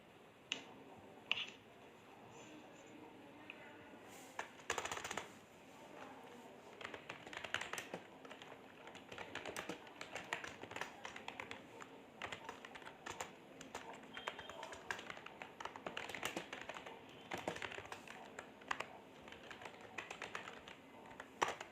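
Computer keyboard typing while a program is written, a long run of quick, faint clicky keystrokes in irregular bursts over low room noise, with light voices now and then.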